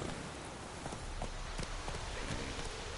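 Roach, a horse in The Witcher 3, gallops with a fast rhythmic clip-clop of hooves under a broad, steady wash of noise, moderately close, no talking.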